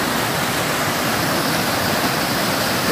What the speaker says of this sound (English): Right now we're coming up to Corners Creek Falls